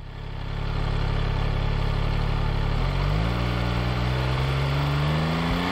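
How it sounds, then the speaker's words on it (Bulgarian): Engine rising from a steady idle as throttle is eased on, climbing in pitch over the second half in a loud, close, continuous drone with no talking. "почваме да подаваме плавно газ"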